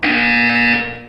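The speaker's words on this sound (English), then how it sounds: "You will hear a buzzer." A loud, steady electronic buzzer tone from the video game Portal 2 rings out alone for about a second, then cuts off abruptly.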